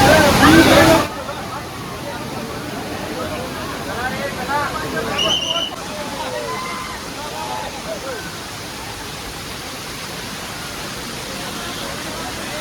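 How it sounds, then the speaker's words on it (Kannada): Amboli Falls waterfall roars as a constant broad wash of falling water, with people talking and chattering in the crowd over the steady rumble. "finally Amboli falls"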